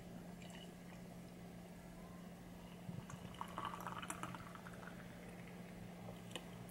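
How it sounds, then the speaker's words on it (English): Raspberry sour beer poured from a can into a glass, a quiet fizzing, bubbling pour that builds to a thick foamy head, faint and steady with a few drips near the end. "Let's pour it in."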